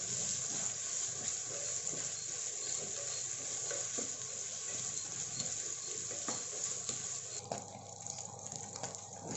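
Paneer cubes frying in a pan, a steady low sizzle with occasional soft stirring scrapes and clicks, faint and continuous throughout.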